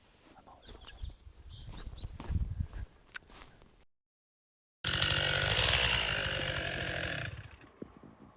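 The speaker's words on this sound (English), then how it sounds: "pretty much the last technique I can teach you is chainsaw planing" A chainsaw bursts into a loud, steady cut while planing a log for a tiny log cabin build. It follows quieter rustling, footsteps and faint birdsong, then a brief silence, and runs for a few seconds before stopping abruptly.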